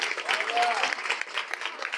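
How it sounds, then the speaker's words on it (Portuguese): Steady, dense applause from a crowd, many hands clapping at once, with a voice faintly audible underneath. "Vamos dar uma grande salva de palmas para Jesus."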